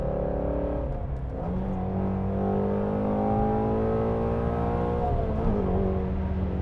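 A Ford Mustang Shelby GT350 engine pulls hard under acceleration, its steady harmonic drone climbing in pitch through the gears with a brief dip at a shift, heard from inside the car.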